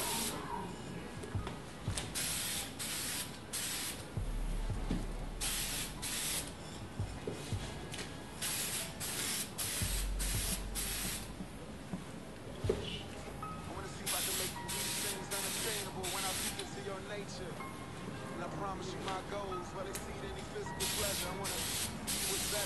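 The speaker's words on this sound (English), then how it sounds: "And I like to spray from a far out distance like this." Spray paint hissing onto a shoe in a Cool Grey 11 color-change paint job, sprayed from a distance in repeated bursts of varying length, with a voice talking throughout.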